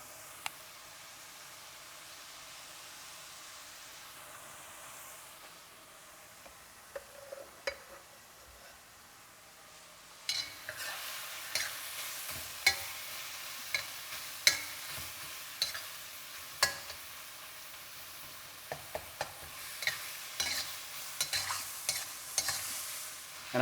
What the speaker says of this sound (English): the smell of shallots frying in beef fat